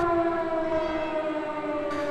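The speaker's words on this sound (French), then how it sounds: "Toutes les églises de la Principauté ont sonné le glas, suivies par les sirènes, à 11 h précisément pour une minute de silence." Civil defense sirens sound a steady, sustained tone across the Principality for a minute of silence, loud and unbroken with no voices.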